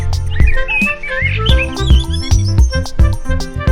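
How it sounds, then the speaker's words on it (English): Sparrows chirp in quick, bright tweets over a bouncy musical backing with a steady beat. "3 sparrows"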